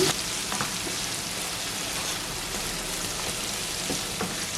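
Red onion, green chili and curry leaves sauté in a pan for an ash plantain stir-fry, producing a constant, moderately loud sizzle with a few soft stirring taps and no voices.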